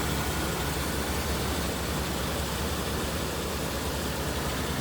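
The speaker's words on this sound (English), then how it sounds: "Engine's nice and quiet and smooth." A 1992 Chevy Sport conversion van's V8 engine idles steadily and smoothly, even and unbroken, with a broad low rumble and no voices.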